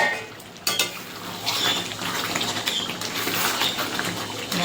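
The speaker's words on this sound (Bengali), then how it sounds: "আবারও নেড়ে দেবো।" Chicken chaap masala frying in a pan while being stirred, a close sizzle with scraping and clinking of the spoon against the pan, steady throughout.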